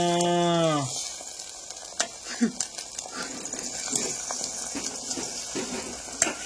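An omelette sizzles in a frying pan, with a low frying hiss and scattered scraping and tapping sounds following a brief held tone at the start.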